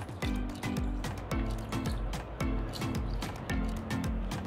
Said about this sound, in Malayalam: ഇനി നമ്മൾ നമ്മുടെ അരി നന്നായിട്ട് അങ്ങ് കഴുകിയെടുക്കാം